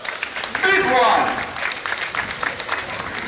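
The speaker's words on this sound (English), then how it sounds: "A round of applause. Big one." Applause from the audience at the annual national Muslim conference at the National Mosque of Ghana, swelling to a dense peak in the first second and then thinning into scattered clapping, with a voice briefly audible over it.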